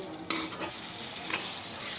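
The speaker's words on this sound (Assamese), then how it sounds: "তাৰ পাছত মাংসখিনি অলপ ৰঙা হ'বলৈ দিব। এনেদৰে ভাজি থাকিব।" Pieces of kuchia eel meat fry in a pan with a steady close sizzle, broken by a few soft clinks and stirring scrapes from a utensil, with no voices.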